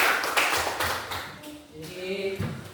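Schoolchildren clap their hands together in a classroom, a loose burst of many overlapping claps of moderate loudness, with children's voices mixed in.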